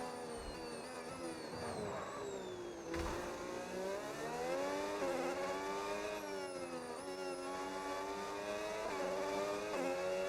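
Racing video game F1 cars scream continuously, engines revving with rising and falling pitch as they brake and accelerate, alongside faint tire noise, loud and steady throughout with no talking.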